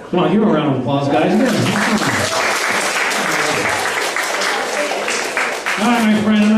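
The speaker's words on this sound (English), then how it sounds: "Come on, give a round of applause," Loud audience applause at a hypnosis show during a bar mitzvah party, sustained crowd clapping with voices shouting and talking over it throughout.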